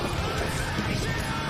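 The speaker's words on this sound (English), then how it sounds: "Damn horse, okay. I hate that." A horse in the Myth of Empires video game makes a brief, loud burst of horse noise over a dense, noisy in-game background.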